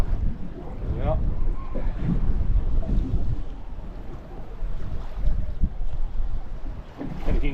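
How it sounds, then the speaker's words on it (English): Breeze buffeting a camera microphone aboard a drifting fishing boat at sea, a steady low rumbling wind noise with gusty swells throughout, loud and close. "I think that breeze is gradually going to get stronger today. Hope it's not coming on the camera too much."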